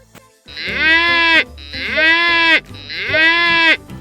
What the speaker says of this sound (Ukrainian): Скільки разів мукала буська.